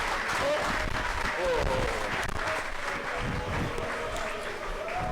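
An audience at a public event in Kinshasa applauds the performing artists in sustained, dense clapping with some crowd noise, loud and continuous, with a voice speaking faintly underneath.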